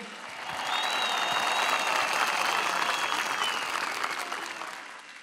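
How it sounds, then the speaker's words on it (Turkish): A large crowd at a CHP political rally in Antalya applauds to welcome young people, the clapping swelling up quickly and holding as a loud, dense roar with a few whistles before easing off. "Önce gençlere bir hoş geldiniz alkışı yapalım."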